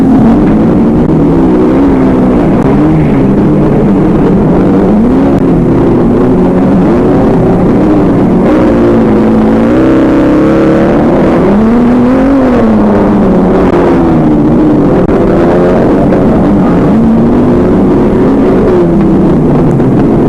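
Racing cars including a VW K70 and an Audi 100 driving past, a loud continuous engine drone that rises and falls in pitch as they rev and shift, with wind buffeting the microphone throughout.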